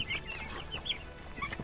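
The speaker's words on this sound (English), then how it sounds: "Wow, it's Indian hen." An Indian hen clucking, a few short bursts of clucks and chirpy calls spaced irregularly over faint background hum, fairly close.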